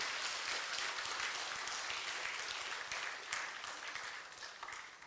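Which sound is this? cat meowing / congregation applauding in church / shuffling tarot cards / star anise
congregation applauding in church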